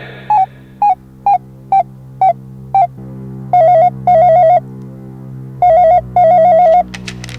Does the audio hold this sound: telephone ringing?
yes